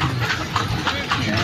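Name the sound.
horse hooves clip-clopping, horse-drawn kalesa carriage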